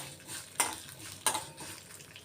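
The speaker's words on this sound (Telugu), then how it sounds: "ఈ ఆవాలు చిటపటలాడాలి, మినప్పప్పు మనకి ఎర్రగా వేగాలి." Mustard seeds and urad dal crackle in hot oil for a tempering, with two sharp pops standing out over a faint, steady sizzle close to the pan.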